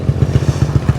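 A group of about ten motorcycles riding together toward Melaka produces a loud, close, pulsing engine drone with a regular throbbing beat throughout the brief moment.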